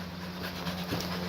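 A dog pants steadily near water, a continuous, faint breathy rasp close by over a low background hum, with no talking.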